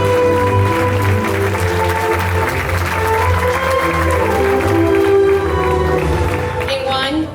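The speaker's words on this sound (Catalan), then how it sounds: "Per això demane un fort aplaudiment per a ells." Sustained crowd applause at a presentation of the 2026 Calvari festivities, loud and steady throughout with a tonal musical hum underneath.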